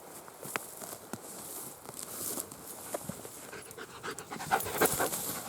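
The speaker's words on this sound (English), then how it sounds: "Dog runs over it." A dog pants steadily while running across a patch of low clovers outdoors, its quick breaths and soft patter of paws coming through at close range over light background rustle.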